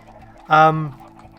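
A chicken in the game Cornerstone gives a single short, loud cluck over a quiet background hum.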